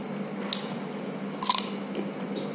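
Biting and chewing dried buffalo meat eaten with sour ambarella fruit: two crisp, close bites a second apart over soft, steady mastication noise, with no talking.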